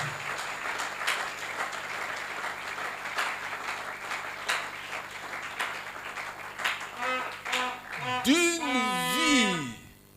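A church congregation applauding during a worship service, a sustained wash of clapping with shouts and voices mixed in, and a voice rising in sung or exclaimed tones toward the end.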